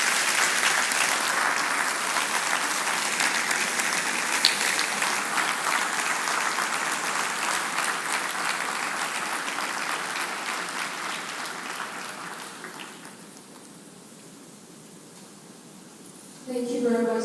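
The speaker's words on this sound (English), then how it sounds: "can we please give a round of applause for the distinguished speaker?" An audience applauds a speaker at a public gathering, a dense, steady clapping that gradually thins and fades toward the end before a voice begins speaking.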